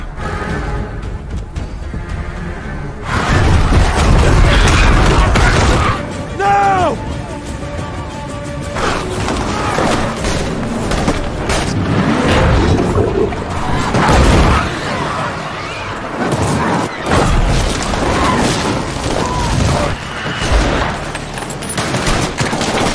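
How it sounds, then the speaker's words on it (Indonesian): Heavy bursts of gunfire and booming gasoline explosions erupt in a chaotic, loud barrage during a zombie battle scene in The Last of Us, mixed with shouting voices and dramatic background sound. "Pasukan yang dipimpin oleh Tommy pun lantas menyerang dengan tembakan dan bensin yang mereka ledakan"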